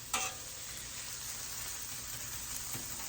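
Onions and peppers fry on a griddle for a breakfast platter, making a quiet, steady sizzle. A sharp scrape opens the clip and a softer tap comes near the end.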